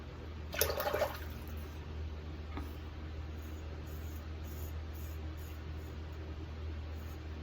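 Tap water runs steadily at low level while a safety razor (Schick L) is rinsed after shaving, opening with a brief louder splash, then settling into a faint, even hiss.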